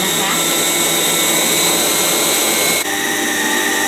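An electric mixer beats butter at medium speed, a loud, steady whirring hum with high-pitched whine that holds constant, dipping briefly near the end as the motor tone shifts.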